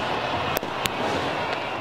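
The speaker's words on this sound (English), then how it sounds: "in Tahrir Square, there were fireworks celebrations" Fireworks bursting over a crowd celebration in Tahrir Square, Egypt, with two sharp bangs close together and a fainter third pop over a steady roar of distant crowd noise.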